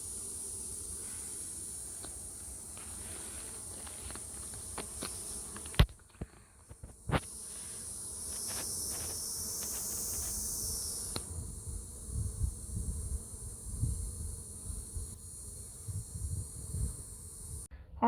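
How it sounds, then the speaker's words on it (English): Agitated honeybees hum steadily around a hive that has just been reassembled, a continuous buzz that rises and falls. Scattered knocks and thuds from handling the hive break through it. "this is us putting them back together and waiting for the bees to calm down"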